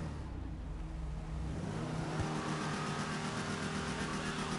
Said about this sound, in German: Weil dieser Wagen hat einen riesigen Sound.